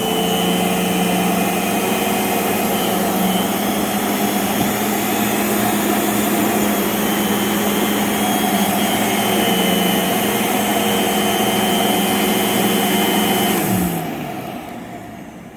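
Rainbow vacuum cleaner with a PM1 power nozzle running loud and steady nearby, a constant droning whir with a rotating hum that winds down as the machine shuts off near the end.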